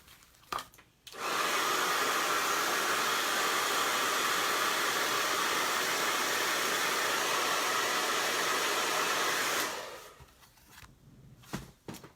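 A hair dryer drying paint on a painted Easter chick runs as one steady, loud, continuous whoosh for about eight seconds, starting abruptly and then cutting off, with quiet handling noises before and after.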